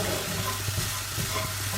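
Chili flakes frying in a pan for a green vegetable orzo dish, a steady low sizzle with faint stirring scrapes throughout, close and fairly quiet.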